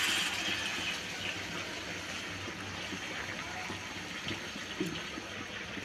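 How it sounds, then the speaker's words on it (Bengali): Hot water is poured into a frying pan of papaya and potato, a continuous gushing trickle over the steady sizzle of cooking, up close and fairly loud. "এরপরে আমি একটু সামান্য উতরানো পানি দিয়ে দেবো"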